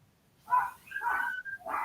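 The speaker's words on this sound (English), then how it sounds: "Yeah, that's Richard's dogs. All his chihuahuas" Several chihuahuas bark and yip in quick, overlapping bursts at moderate distance, with a short lull between volleys and no talking over them.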